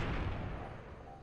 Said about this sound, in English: Fire rockets.